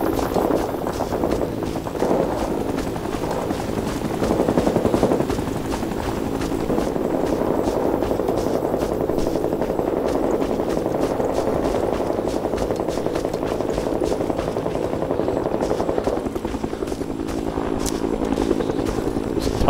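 Aircraft flying overhead in Rising Storm 2: Vietnam, a steady loud rotor-like engine drone that lasts the whole stretch beneath battlefield noise, with no speech.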